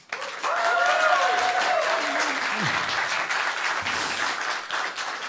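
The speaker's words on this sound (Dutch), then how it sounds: "geef haar een warm applaus. Marlene Moorman." Warm audience applause in a hall at a one-on-one Amsterdam political debate, steady clapping throughout with a few cheers and voices mixed in.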